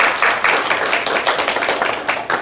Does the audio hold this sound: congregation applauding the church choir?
yes